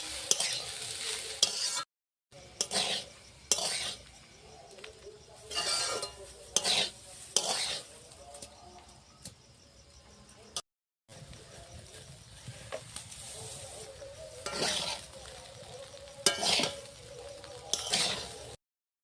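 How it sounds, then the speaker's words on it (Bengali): Fried rice with cashews and raisins being stirred in a pan, a spatula scraping and clinking against the metal in repeated strokes over a soft sizzle, with short pauses between bursts of stirring. "এখন ভাত দিয়ে দেবো। অল্প অল্প করে ভাত দিয়ে সুন্দর করে অল্প অল্প করে নাড়াবো।"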